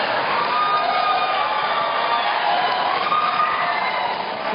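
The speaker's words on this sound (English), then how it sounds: "Please do not applaud." An audience at a presidential debate cheers and applauds continuously, a dense, even wash of crowd noise throughout.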